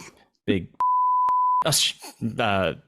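A sustained censor bleep tone of about a second cuts loudly between stretches of conversational speech, with voices talking just before and after it.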